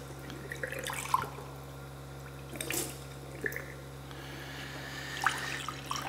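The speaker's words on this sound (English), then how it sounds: "let me give it a rinse" Water from a faucet briefly splashing into a drinking glass as it is rinsed beside a reverse osmosis filter system; faint, intermittent trickles and splashes with quiet pauses in between.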